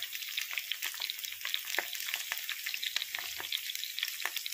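Cucumber pieces, carrot and mint fry in a pan for cucumber chutney, a continuous close crackling sizzle with occasional stirring, no voices.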